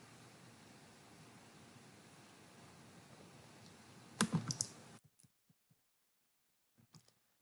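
A short burst of close computer keyboard typing over a quiet hiss, followed by a few sparse isolated key clicks, with no talking.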